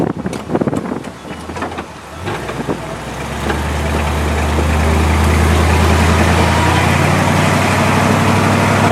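A 1957 Chevy engine starts up after a few clicks and thumps, then settles into a loud, steady idle rumble heard from inside the car, with exhaust manifold gaskets needing tightening and some wind noise.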